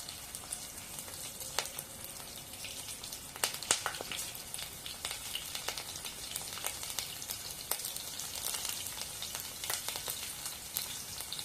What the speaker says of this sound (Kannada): ನಾಲ್ಕು ಉದ್ದ ಸೀಳಿರೋಂಥ ಹಸಿಮೆಣಸಿನ್ಕಾಯಿ ಹಾಕೋತಾ ಇದ್ದೀನಿ.